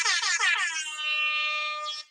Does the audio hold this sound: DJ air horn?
yes